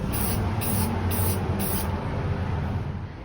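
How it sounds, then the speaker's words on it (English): An aerosol can sprays paint onto chop saw parts in four short, close hisses at an even rhythm, with a steady background hum underneath and no talking. "Now I'm going to paint them this color"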